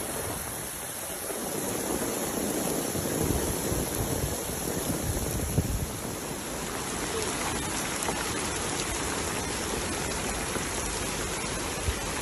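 Steady rain pours in Taif, Saudi Arabia, a dense continuous hiss of falling water that stays loud and even throughout, with no voices.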